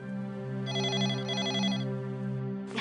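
A telephone rings at night with a steady electronic ringtone, a repeating warbling pattern that sounds close and clear and fills the room alone, with no talking over it.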